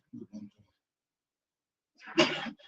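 A single sharp sneeze near the end, loud and close, after a stretch of quiet and a few soft murmured sounds at the start.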